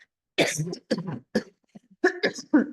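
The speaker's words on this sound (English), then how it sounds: "Excuse me, when I need to cough" Several harsh coughs in quick bursts, close and fairly loud, separated by short pauses, with a throaty clearing sound near the end.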